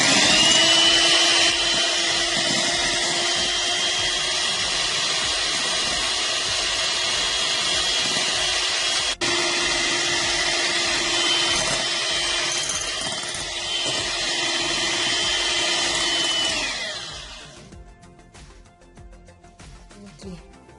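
An electric hand mixer beats eggs and sugar for a sponge cake, a loud steady whirring drone held close for about sixteen seconds before it winds down and stops.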